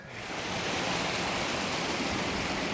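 A river rushes around a bend in the open hills, a dense, steady, close roar of flowing water that swells in and holds without talk.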